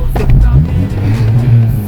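A Volkswagen Golf Mk II runs close by with a loud, deep exhaust rumble that rises and falls in short throttle pulses.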